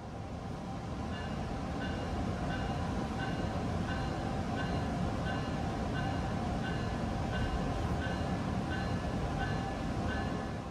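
An MBTA train rolls out of the station with a steady, loud rumble, joined by a regular repeating chime or clack pulsing roughly every half second throughout.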